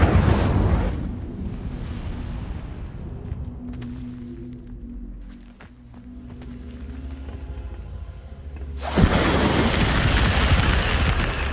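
A fiery Incendio spell blasts in a video game, erupting in a loud, roaring burst at the start, easing into a low rumbling crackle, then another broadband blast surges in near the end and keeps roaring.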